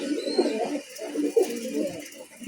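Domestic pigeons coo in soft, low repeated bursts at close range, overlapping one another, with faint background noise and no clear talk.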